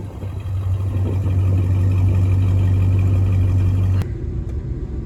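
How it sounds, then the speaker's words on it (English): A Ford Escape engine idles with a steady low hum and rumble, close and continuous, before the tone abruptly shifts and quiets near the end. "listen to that V8 rumble"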